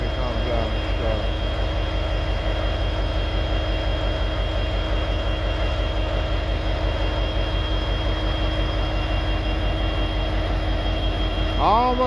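Freight train locomotives hold a deep, continuous diesel rumble nearby, steady throughout with a faint high whine above it.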